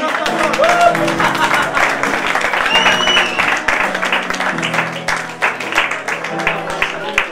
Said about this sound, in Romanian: haideți să aplaudăm pe ei